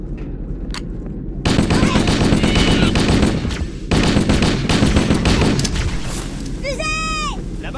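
Rapid gunfire from the Halo video game bursts loud and dense for several seconds, pausing briefly before resuming, followed by a short electronic whistling effect near the end.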